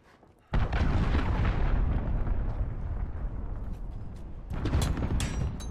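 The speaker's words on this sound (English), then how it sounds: "Enemy cruise missile, take cover." A cruise missile strike detonates in Call of Duty Modern Warfare multiplayer, a sudden loud explosion after near-quiet, followed by a sustained heavy rumble and a second swelling surge of debris and noise.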